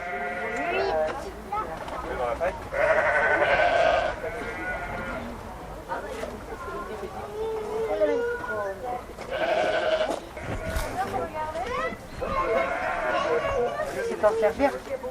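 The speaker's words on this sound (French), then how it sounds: "avait lieu la tonte des brebis à la bergerie" Ewes bleat repeatedly at a sheepfold during shearing, loud and close, in overlapping calls that rise and fall, with people talking and a murmur of onlookers underneath.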